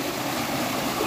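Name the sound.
waterfall water rushing at Thirupathur hidden falls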